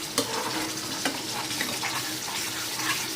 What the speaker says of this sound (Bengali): মশলাটাকে ভালো করে কষিয়ে নিতে হবে যতক্ষণ না পর্যন্ত মশলা থেকে তেলটা ছেড়ে যাচ্ছে।